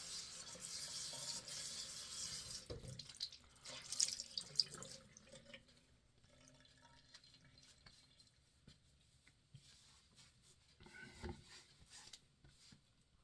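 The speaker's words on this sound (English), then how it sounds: "I'm going to wet my rag, rinse my face" A tap runs into a sink as a rag is soaked and a freshly shaved face is rinsed after a double-edge razor shave, with running water, dripping and wet wringing sounds close by and varying in strength.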